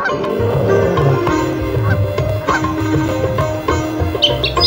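Cartoonish duck quacks and honks from the Meena 2 mobile game sound over a steady electronic music backdrop, with a few brighter blips near the end.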